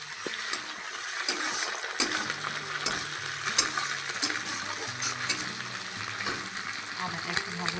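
Chopped onions sizzle steadily in a hot pan while ginger paste is added for a Bengali pointed gourd and prawn dish, with a constant close crackle and scattered clinks of a utensil against the pan.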